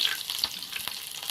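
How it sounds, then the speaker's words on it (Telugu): Crushed garlic cloves sizzle in hot tempering oil for amaranth-leaf dal, a steady close crackle with small bright pops scattered throughout and no voices. "4 చిన్నులపై రెబ్బలు దంచుకొని పోపులో వేసుకొని"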